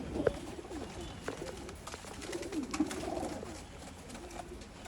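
An old-line pigeon coos softly and repeatedly in a low, rolling rhythm, a few calls standing out over faint background hiss, with no talking.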